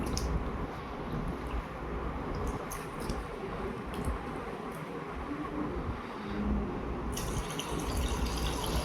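Steady running water splashing and rushing as black gram lentils are rinsed in a bowl under a tap, continuous throughout with a brighter hiss near the end.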